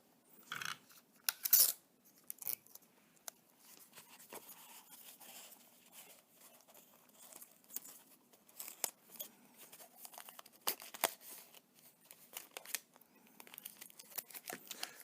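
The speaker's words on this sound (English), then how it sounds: "now we're going to tape around the side to make sure that it stays in place" Tape is pulled and wrapped around a cardboard telescope in a string of faint, close crinkles, rips and sticky pulls with small pauses between them, in an otherwise quiet room.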